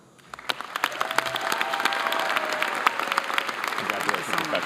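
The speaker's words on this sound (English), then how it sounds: "Please join me in a round of applause" Applause at a university business school graduation recognition ceremony, starting thin and swelling into sustained clapping from a large audience, with a faint voice speaking partway through.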